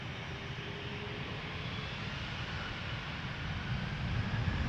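A FedEx heavy jet takes off from runway 23 at Toronto Pearson Airport, a broad steady engine roar heard from a distance that swells slightly toward the end.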